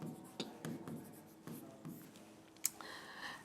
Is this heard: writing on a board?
yes